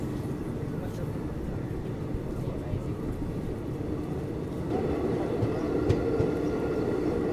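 Shalimar Express hauled by a WDP diesel locomotive accelerating away from a station platform in Saharanpur district, with a steady broadband rumble that swells louder after a few seconds as the train picks up speed.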